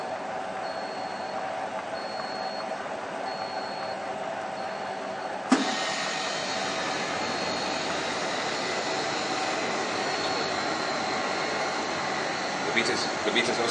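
An HM80 machine running in pre-cooling keep fresh mode gives a steady mechanical hum and whir, then a sudden click and a louder, broader rushing drone as it kicks in, with people talking underneath.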